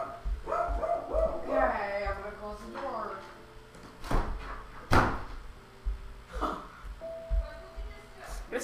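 A pet pug barks repeatedly indoors, with several sharp yaps mixed with a door being shut and a bump, and a person talking intermittently over the barking.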